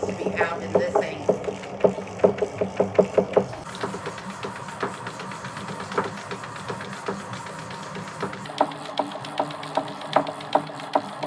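A Mosbros electric yarn winder with a loose bolt runs slowly, giving a steady ticking, clacking rhythm of repeated mechanical clicks that speeds up slightly after a brief change, with close, moderate loudness throughout.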